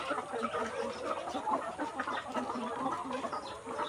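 Layer hens clucking steadily on a poultry farm, a dense overlapping chorus of many birds at close to middle distance with no talk.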